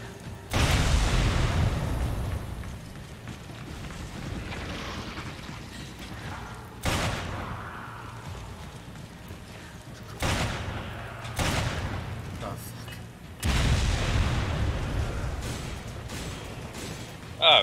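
Gunfire from Resident Evil 5, heard as several loud broadband bursts that stand out from a constant rumbling game background, with rising and falling combat noise between them.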